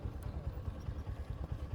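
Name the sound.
motorcycles passing by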